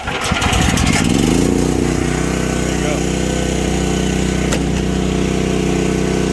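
A mini excavator for sale at an auction cranks briefly, catches and settles into a steady, loud diesel idle that keeps running close by.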